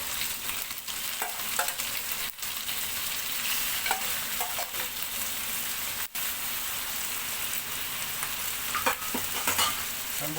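Shrimp fry in caramelized sugar with a loud, continuous sizzle and crackle, close up, with occasional stirring noises breaking through the hiss.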